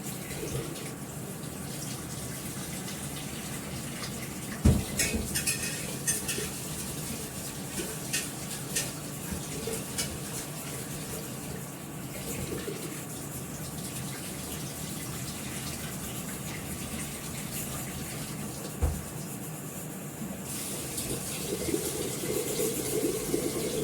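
Rice is washed under running water at a kitchen sink, a steady tap stream and swishing in a pot with occasional clinks and knocks, moderately close and without talking.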